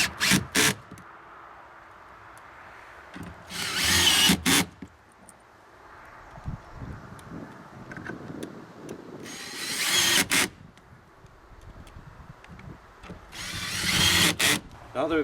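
A power drill on a torque setting drives screws into a seat pedestal base, with three loud bursts of whirring and clutch ratcheting separated by quieter handling noise and talk.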